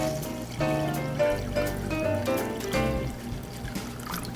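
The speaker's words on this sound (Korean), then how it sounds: "물을 먼저 넣어줄게요." Water is poured into a cooking pot for braised dried pollock, a steady splashing trickle lasting several seconds, close and fairly loud, with no talk.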